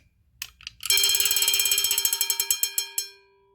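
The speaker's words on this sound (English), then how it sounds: "this is my Vanguard Protection System V225FT bell, which can be wound up." A Vanguard Protection System V225FT fire alarm bell is wound up by hand: a few ratcheting clicks, then a loud ringing clang that pulses rapidly and evenly for about two seconds before decaying after a final strike.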